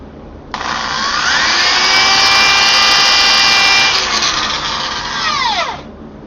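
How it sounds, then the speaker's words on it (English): A steady high-pitched whine of a polishing drill buffing a wooden shoe last for about five seconds, loud and close, winding down at the end. "I'm just going to go over a little bit of the polishing drill"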